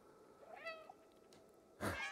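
A cat meows in the video game Stray, one short close meow, followed a second later by a brief noisy burst of game sound.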